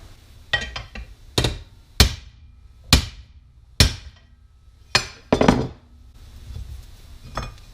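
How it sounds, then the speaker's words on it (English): A hammer smacks a bent RC plane part on a hard surface to level it, with about nine sharp, ringing metallic blows at uneven intervals, some in quick pairs, close and loud. "I'm going to smack it with a hammer and just level that spot out"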